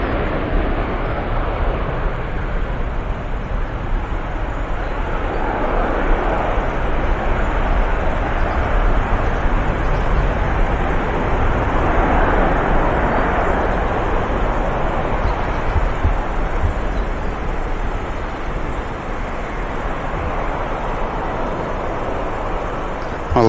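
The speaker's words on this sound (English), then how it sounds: "Quickly pan around for the Sun Express arrival." A SunExpress airliner arrives at Manchester Airport, heard as a distant, steady rumble of jet engines blended with wind noise that swells and eases gently without ever standing out sharply.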